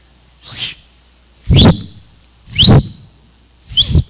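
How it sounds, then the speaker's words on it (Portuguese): A person whistles four short, rising notes in a row, spaced about a second apart, each with a breathy puff, loud and close. "eu estou assobiando ainda"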